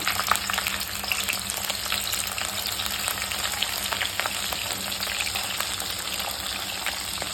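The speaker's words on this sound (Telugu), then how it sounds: "ఇప్పుడు కడిగి పెట్టుకున్న చేపలు వేసి వేయించుకుందాము" Dried fish, washed beforehand, frying in hot oil for a brinjal curry: a steady, dense sizzle with crackling bursts, fairly close and continuous throughout, with no talking.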